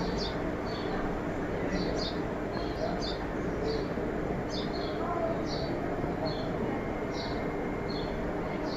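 A house sparrow chirps in short, repeated bursts, faint and slightly distant, over a steady hum of background noise.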